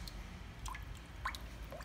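Water drips off a Tamiya Super Clod Buster RC truck, a few sparse, distinct drops falling at irregular intervals over a quiet, low background hum, with no talking.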